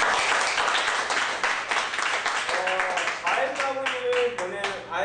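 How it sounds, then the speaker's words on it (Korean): An audience at a book forum applauds for about five seconds, a dense burst of many hands clapping with a few louder nearby claps, while a voice speaks over the later part. "박수 한번 해주세요."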